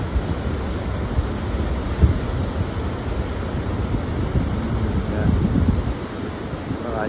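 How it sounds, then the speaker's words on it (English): Ocean waves roll and wash against cliffs at Morgan Bay beach, a steady broad surf roar with wind buffeting the microphone and a slight swell in loudness toward the end. "Have a look for a little while and see if we can just enjoy the waves."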